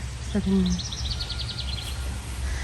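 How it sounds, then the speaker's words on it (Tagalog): Birds chirp in a garden vegetable plot beside a calamansi tree, a quick run of high, bright tweets over a low outdoor hum, preceded by a brief voiced sound. "ang naririnig ko lang yung huni ng ibon"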